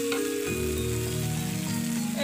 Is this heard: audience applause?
no